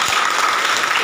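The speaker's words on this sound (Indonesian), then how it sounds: "Tepuk tangan untuk teman kita." Students in a classroom clap for a classmate, a loud, close, dense burst of hand clapping filling the moment without voices.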